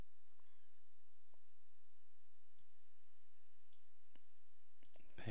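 A computer mouse clicks a handful of times at irregular intervals, sharp and close, with a quick cluster of clicks at the very end over a quiet background.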